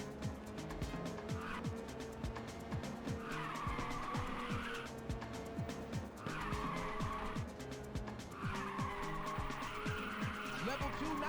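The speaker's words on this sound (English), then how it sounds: "okay, drifting way too much" Tires squeal and skid over and over as cars drift through corners in the Ridge Racer 2 racing game, long screeching bursts over a steady engine drone and game music.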